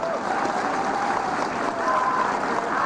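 A large crowd at a political rally applauds in a continuous, even wash of clapping, with a faint tonal whistle drifting through the noise.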